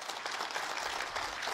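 A crowd at a village religious week-long gathering claps in a brief, fairly faint burst of continuous applause.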